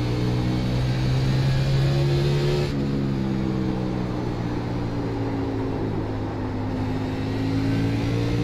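Race car engine in the iRacing game at Bristol, NASCAR-style 2018 Monster Energy Series car, droning loud and steady at high RPM with sustained revving tones throughout, no voices.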